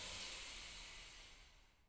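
A long, steady inhalation during a yogic breathing exercise between rounds of kapalabhati, a soft breathy hiss that is close and fairly quiet and fades out toward the end.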